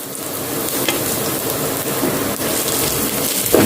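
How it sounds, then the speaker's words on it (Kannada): Finely chopped ginger, garlic and green chili fry in hot oil as they are stirred in a pan, giving a loud, constant, close crackling sizzle like heavy rain, with a stir or two scraping through. "ಹಾಕಿದ ಮೇಲೆ ಸ್ವಲ್ಪ ಹೀಗೆ ಮಿಕ್ಸ್ ಮಾಡಿಕೊಳ್ತಿದ್ದೇನೆ"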